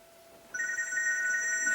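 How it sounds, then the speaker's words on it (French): An old-style telephone bell rings loudly and continuously in an indoor room, starting abruptly after a brief quiet moment and sounding alone. "Téléphone! Oh oui, il y a même un téléphone."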